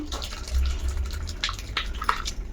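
Liquid being poured and strained through a cloth while making homemade paneer, close splashing and dribbling with a few drips toward the end, with no speech.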